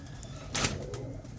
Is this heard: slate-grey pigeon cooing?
yes